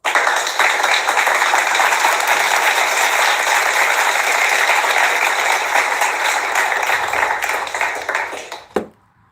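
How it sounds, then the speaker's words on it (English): A live show audience at a bachelorette event breaks into loud, sustained clapping that holds for several seconds, thins and fades, and ends on one sharp tap before silence. "where's my applause?"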